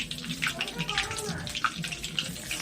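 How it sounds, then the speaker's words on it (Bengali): Chicken is washed in hot water, with splashing and running water in uneven bursts up close while a voice talks over it. "চিকেনটাকে গরম জলে ওয়াশ করে নেবেন ভালো করে"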